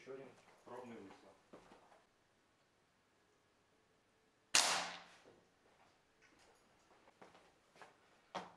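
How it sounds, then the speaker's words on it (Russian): A single sharp test shot from a Smersh R10 air rifle fired outdoors at 15 metres cracks out loud and close in the middle, with someone talking briefly before and after it. "Сейчас попробую отойти на 15 метров и сделать еще один пробный выстрел."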